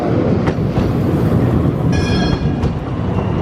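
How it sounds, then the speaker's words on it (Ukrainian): A tram rumbles past close by in Amsterdam in autumn, a steady heavy roar with faint metallic squeals and clicks from the wheels, no voices. "О, цей знов прийшов. Трамвай."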